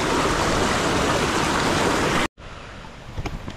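A river flooded after heavy rain rushes past in a loud, steady broadband roar close to the recorder, breaking off briefly before a quieter stretch of water continues.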